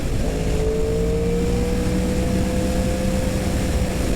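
A Kawasaki Ninja H2 Carbon motorcycle accelerates, its engine note climbing steadily in pitch beneath heavy, constant wind rush, loud and close, with no talking.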